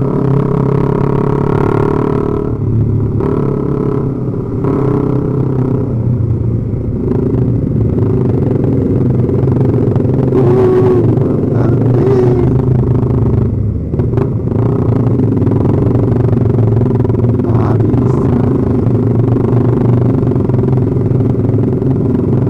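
Several motorcycles on a group Sunday ride produce a loud, continuous engine rumble with clattering and occasional revving swells, a dense mass of sound throughout.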